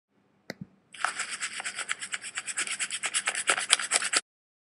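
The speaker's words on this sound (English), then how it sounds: "then you can use the eraser to erase this afterwards" A whiteboard eraser rubs back and forth across an interactive whiteboard in rapid, even scrubbing strokes, close and fairly quiet, after a couple of light taps, then stops abruptly.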